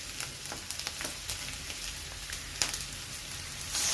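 Spice paste of chilli powder, cumin and ginger sautés with potatoes in a pan, making a continuous close sizzle with scattered crackles and a faint scrape of stirring.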